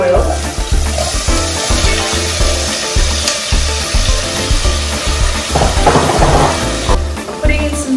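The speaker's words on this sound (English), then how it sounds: "I'm going to be putting them into the oil." Steady hissing and crackling of potato cubes frying in hot oil, loud and close, with occasional clinks of a utensil.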